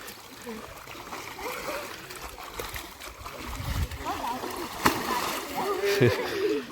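Splashing in a flooded paddy field fed by a canal during rice transplanting in the Kumaon hills of Uttarakhand, intermittent nearby splashes and water sloshing under voices and background chatter.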